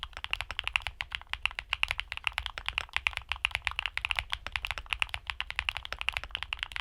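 Keygeek Keylin creamy mechanical keyboard switches clack under fast, steady typing, giving a dense run of close, soft keystrokes with no talking.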